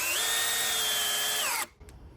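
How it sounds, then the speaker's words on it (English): A Milwaukee M12 subcompact cordless drill on a 5 amp hour battery whines at steady high speed for about a second and a half, then winds down and stops, leaving quiet room noise. "Let's try the drill one more time with this battery"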